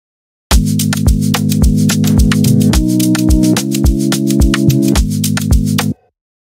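A rendered Afro-Amapiano loop in FL Studio, reversed again, runs alone and loud: layered sustained chords shifting a few times over an even beat of reversed hits, cutting off cleanly at the end.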